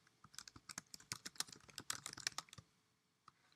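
Fingers type on a computer keyboard in a quick run of close, crisp key taps for about two and a half seconds, then fall silent apart from one last tap.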